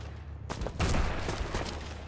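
Gunfire rings out in the shooter game Sniper Elite V2, a sharp loud burst after a quiet start followed by a few fainter shots and rumble.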